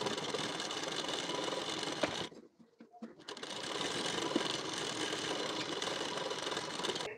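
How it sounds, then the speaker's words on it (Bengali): A sewing machine runs steadily while stitching a blouse, breaking off briefly for about a second midway before resuming its continuous, close whirring hum. "এখান থেকে একটি সেলাই দিয়ে নিতে হবে"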